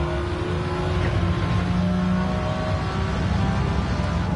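Race car engine in a Gran Turismo 7 replay, a steady loud droning exhaust note with sustained revving throughout, no voices.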